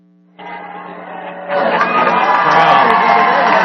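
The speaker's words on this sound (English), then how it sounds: "Hear the crowd giving Cliff Dickman the happy birthday wishes." Crowd in a gym at a boys basketball game shouting birthday wishes, a loud swell of cheering and whooping voices that rises sharply partway through and holds strong to the end.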